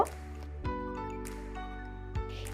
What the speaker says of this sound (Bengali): এই পর্যায়ে আরো কিছুটা ঘি দিয়ে দেব।